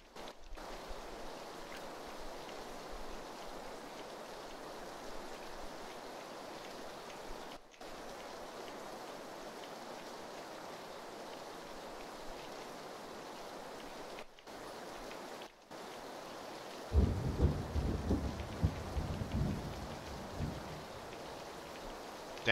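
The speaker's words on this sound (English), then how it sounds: "Can't hear shite with this rain." Steady rain in the video game PUBG hisses without a break across the whole stretch, with a louder low rumbling burst near the end that could be thunder; no one talks.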